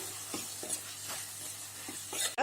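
Sambar powder sautés in oil for an onion kuzhambu, a soft low sizzle broken by a few quiet spoon strokes against the pan, ending in a brief louder clatter.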